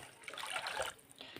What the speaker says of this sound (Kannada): ಈ ಲೋಟದಿಂದ ಮತ್ತೆ 1 ಲೋಟ ನೀರು ಹಾಕ್ಕೊತಾ ಇದ್ದೀನಿ.